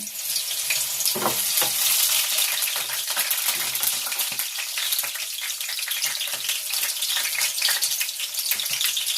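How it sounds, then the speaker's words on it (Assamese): Chopped onions fry in hot oil with a dense, steady sizzle and crackle, loud and close throughout with brief spattering bursts and no talk. "তেলটো গৰম হৈ গ'ল কাটি লোৱা পিয়াজবোৰ দি"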